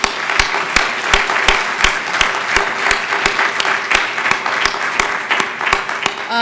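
Audience applause at an event's closing comments, a dense steady wash of many hands clapping with sharp individual claps standing out, loud and continuous throughout.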